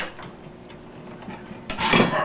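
Homemade chicken dumplings in brown sugar caramelized carrot stew set onto a plate, a sharp nearby clatter of utensil and dish after a quiet stretch, followed by a short burst of scraping and clinking.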